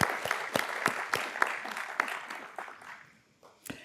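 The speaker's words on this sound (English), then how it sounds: "So a round of applause for Rachel and for Adam." An audience at a university sustainability awards ceremony claps for an award recipient, individual hand claps distinct and fairly close, the applause fading out after about three seconds with a last stray clap.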